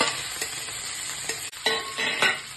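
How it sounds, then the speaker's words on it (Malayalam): Chaya mansa leaves (a spinach-like green) stirred and fried in a pan for thoran: a steady close sizzle with repeated scraping stirs of the utensil against the pan, no voice. "ഇനി നല്ലോണം ഒന്ന് ഇളക്കി കൊടുക്കാം."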